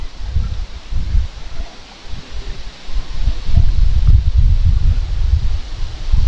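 Strong outdoor wind gusts through leaves and buffets the microphone, a loud, close rumble with surging and easing rustles throughout and no voices.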